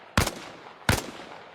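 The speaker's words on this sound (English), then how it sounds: "I want to hear 5 shots." Two loud, sharp rifle shots fired at a firing range in Arma Reforger, spaced under a second apart, each with a short echoing tail and no talk.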